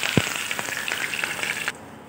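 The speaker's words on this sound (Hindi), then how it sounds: "पैन गर्म हो चुका है तो उसमें हम थोड़ा सा हींग डालेंगे और थोड़ी सी राई डालेंगे" Mustard seeds, asafoetida, a red chili and curry leaves crackle in a hot pan for an Indian tempering, a steady close sizzle with a sharp pop near the start that cuts off abruptly.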